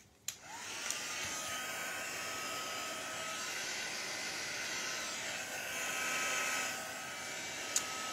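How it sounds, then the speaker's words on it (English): A craft heat tool blows hot air over alcohol inks in a steady, close whirring rush that lasts for several seconds, with a click as it switches on and another sharp click near the end. "And I'm going to move that around with the heat tool."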